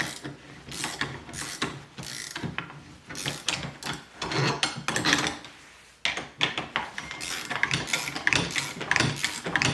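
Wrenches turn an outboard jet bearing puller, a busy run of ratcheting clicks and metallic grinding that pauses briefly midway, then resumes, close and fairly loud.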